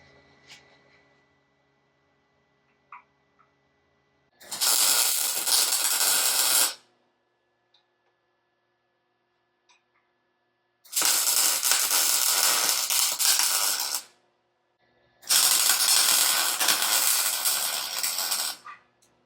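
Metal parts tack welded in place: three sustained bursts of loud, crackling, hissing arc noise, each a few seconds long, separated by quiet pauses with small clicks.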